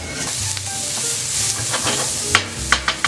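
Tomato puree sizzling and frying in a hot pan, steady hiss with a few sharp stirring scrapes near the end, close and alone.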